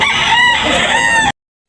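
A rooster crows loudly and close by at a chicken sale in Tabunok, Talisay, Cebu, one drawn-out call lasting just over a second before abrupt silence.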